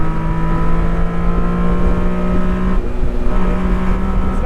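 A 1991 Honda Beat's small engine holds high revs in a steady, loud drone from inside the cabin, with a brief dip and recovery partway through.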